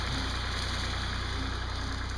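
A tractor engine idles nearby with a steady, low, rapid chugging pulse that holds even throughout, with no talking over it.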